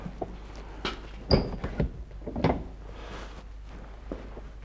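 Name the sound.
door of an old horse-drawn carriage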